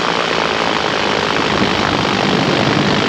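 Propeller airplane engine droning steadily and loudly during a flyby in gusty, shifting wind, a continuous broadband roar with no voices.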